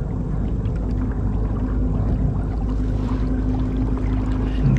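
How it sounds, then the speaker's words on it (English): A motor on a fishing kayak off Long Island runs as a continuous low, steady drone with water wash, close and fairly loud, with no talking. "And cut the motor."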